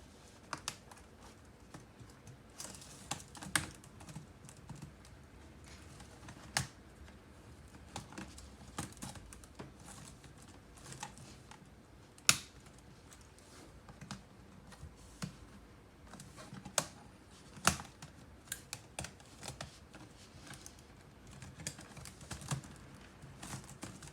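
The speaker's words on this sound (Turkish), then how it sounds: "şöyle aşağı doğru bastığım zaman zaten oturuyor kendisi" Plastic keys of a replacement keyboard on an HP 15-N054ST laptop are pressed down and snapped into place, giving a steady series of small, close clicks and taps at an uneven pace, with no talking.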